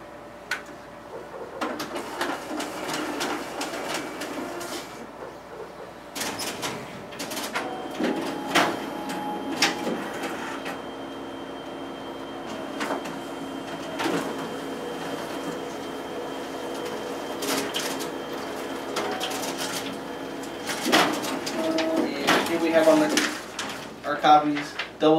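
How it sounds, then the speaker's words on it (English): Xerox WorkCentre 7845 copier pulling two test pages through its document feeder and double-stapling the copies in the finisher, a string of mechanical clicks, whirs and clunks at close range, with some talk over it. "now we'll go ahead and test out the document feeder as well as the stapling feature on our finisher"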